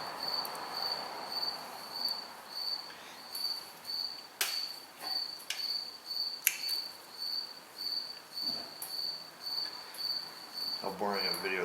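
A single cricket chirps close by at night in steady repeated pulses, with a few faint clicks and knocks from nearby work on a Ford truck breaking in now and then.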